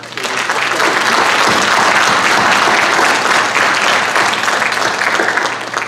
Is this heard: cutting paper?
no